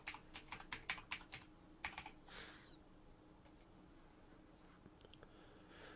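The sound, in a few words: typing a password on a computer keyboard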